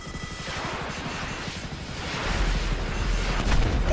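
An FH-1 Hunter helicopter in GTA V Online, rotor rumble with gunfire and missile blasts mixed in, loud and continuous, swelling heavier in the second half.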